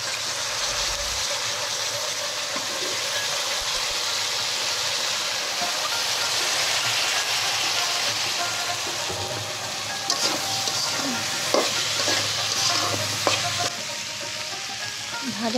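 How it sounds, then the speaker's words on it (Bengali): Dried loitta fish (Bombay duck) frying in a pan makes a continuous dense sizzle, with intermittent spatula scrapes and light clinks of stirring growing more frequent toward the end, no voices. "শুটকিটা একটু ভাজা ভাজা করে নিই।"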